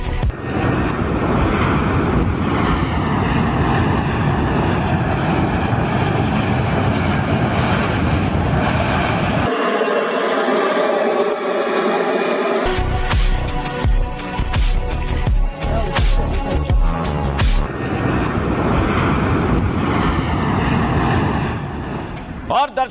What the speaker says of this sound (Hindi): 16 सीनी सैन्य विमान आपके सामने।